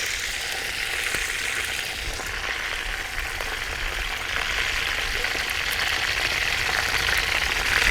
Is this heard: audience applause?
no